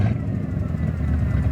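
A Pontiac Phoenix engine, revived after sitting over twenty years, runs steadily with a slight tick, a continuous low rumble held close and even throughout.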